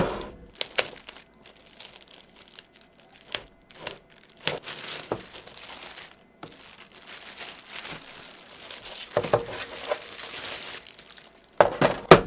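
Packing paper is crumpled and crinkled in bursts of close, sharp rustling and crackling while RGB LED panels are unboxed, with brief quiet pauses between handfuls.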